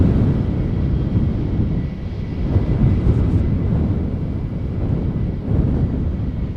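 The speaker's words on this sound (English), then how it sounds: "It's an A320er." A steady, broad roar of an Airbus A320 arriving at Schiphol in a crosswind, mixed with heavy wind buffeting on the microphone, loud and continuous throughout.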